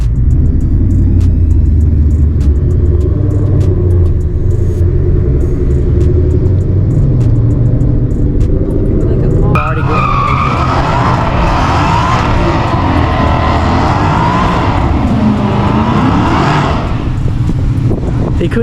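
A car rolls around the back of a building, its engine a low, steady rumble with wind noise inside the cabin, the tone shifting partway through as it slows and turns; no talk is heard.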